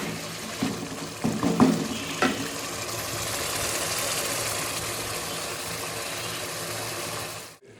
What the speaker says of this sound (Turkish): Ve böyle kavuruyorum biraz.